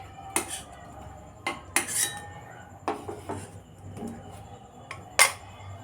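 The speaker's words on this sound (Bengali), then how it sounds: "তো আমি এবার আলুগুলো জল থেকে তুলে নিচ্ছি।" Boiled potatoes being lifted out of water in a pan, heard as a handful of sharp metal utensil clinks and scrapes against the cookware, spaced irregularly with quiet gaps between them.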